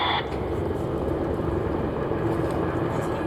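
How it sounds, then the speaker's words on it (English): A pair of Army Air Corps Apache AH-64E attack helicopters runs in at an airshow, giving a steady, loud rotor and engine roar that fills the whole stretch. "A pair of hidden Army Air Corps Apache AH-64E attack helicopters run in."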